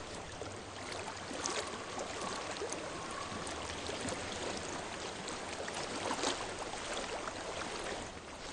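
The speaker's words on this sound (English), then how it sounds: "I hear water." A stream flows steadily in the video game Hellblade: Senua's Sacrifice, a faint continuous rush of running water with no pauses and no talk.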